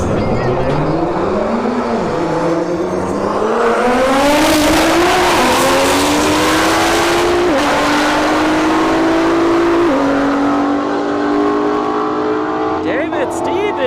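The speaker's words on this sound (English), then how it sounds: "Here in the left lane, David Stevens in the CCO Performance GTR." A CCO Performance GTR drag racing an S550 at a drag strip, engines revving hard with rising gear-shift pitch steps and tire noise, loud and close, with a commentator talking throughout.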